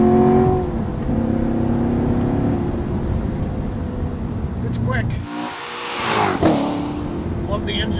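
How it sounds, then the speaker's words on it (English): A 2014 Chevrolet Corvette Stingray Z51 with 460 horsepower accelerates hard up through the gears on a straight downhill run. Its loud engine note climbs, then a roaring surge comes at a gear change, with someone talking over the early part. "Love the engine sound."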